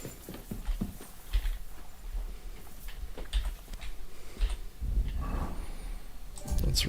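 Rhythmic hoof clip-clops from a horse in Kingdom Come: Deliverance II, steady and fairly close, with scattered clicks and a brief snort-like rustle near the end.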